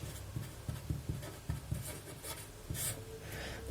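Notes being written on a board during a medical lecture, a series of short, close scratchy strokes in an uneven rhythm, moderately loud with no talk over them.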